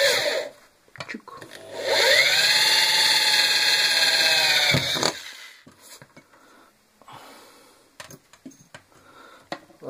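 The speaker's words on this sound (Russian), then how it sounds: "сверлить отверстие" A power drill bores a hole for mounting a sliding door, running steadily for about three seconds with a high whine, then stopping, followed by fainter handling clatter.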